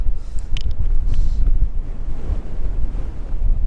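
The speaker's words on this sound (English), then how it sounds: "Whoa, it really is quite strong, the wind down here." Strong, blustery wind buffets the microphone at the waterline of a shore at sunrise, with steady roaring gusts and surf wash beneath, loud and continuous throughout.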